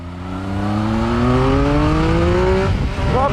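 A Triumph Speed Triple 1050 RS three-cylinder motorcycle accelerating hard, a loud close engine note climbing steadily in pitch for about two and a half seconds before a gear change drops it and it rises again.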